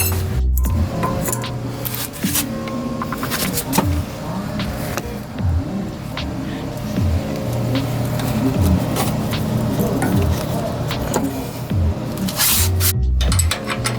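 A ratchet clicks repeatedly as it tightens a bolt on a front leveling kit for a Toyota Sequoia, with busy mechanical rattling and clanking throughout at close range.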